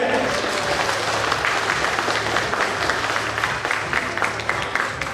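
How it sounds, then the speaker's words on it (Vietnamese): Steady, sustained audience applause fills a customer award ceremony for a steel company's spring gathering, a dense wash of clapping from a large crowd that continues evenly throughout without pause. "Xin quý vị đồng tràng pháo tay thật lớn để chúc mừng giải đặc biệt ngày hôm nay"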